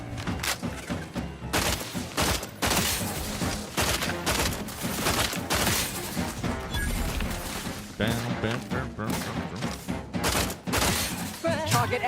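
Dense gunfire rattles through a firefight in the video game The Outer Worlds 2, with rapid repeated shots, thuds and impacts layered loudly and almost without pause, while voices speak underneath.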